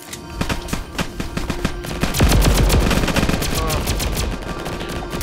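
Raygun shots in the Roblox game Flag Wars, fired one click at a time in a quick, uneven string of sharp electronic blasts that run nearly continuously and loud over a busy game backdrop.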